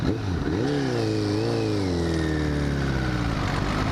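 A car engine revs steadily and loudly as it climbs through the gears, its rising and falling pitch carrying through the whole stretch with no talking over it.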